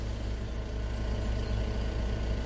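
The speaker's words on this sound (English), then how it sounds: "start the engine back up again" A vehicle engine fitted with a VB Full Air 4C air suspension system idles steadily after being restarted, a constant low rumble with no other sounds.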